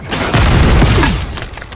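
A grenade detonates in Call of Duty Warzone, a single loud, close boom with a short rumbling tail that fades within about a second.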